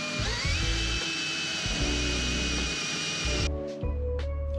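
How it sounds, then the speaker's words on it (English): A carbide spot weld drill bores out spot welds on an MG Midget floor pan and A pillar, a loud steady high-pitched whine with grinding bite that runs continuously, then breaks into short bursts near the end. "Using this high carbide spot weld drill makes light work of these spot welds."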